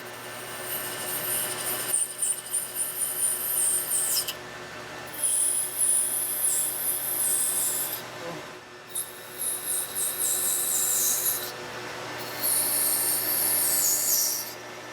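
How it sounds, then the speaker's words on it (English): A metal lathe parts off washers from stock, making several cuts in a row: four long, steady scraping, squealing passes with short breaks between them, close and fairly loud, with no talking. "we're just going to part this off"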